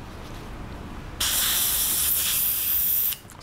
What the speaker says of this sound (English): Spray the excess.